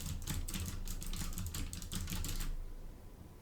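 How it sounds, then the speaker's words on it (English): Rapid typing on a computer keyboard at a desk, picked up by a nearby budget USB condenser microphone: a dense run of clicky keystrokes for about two and a half seconds, then quiet room tone. "and here's me typing"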